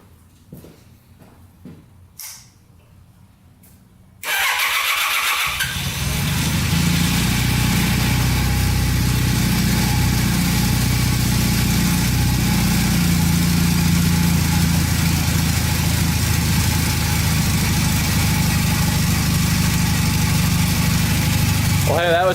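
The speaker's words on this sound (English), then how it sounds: "It's running perfectly." Honda motorcycle engine, choke on, starts with a sudden burst at about four seconds, then settles into a steady, loud, close idle that runs to the end. Quiet handling noises come before the start.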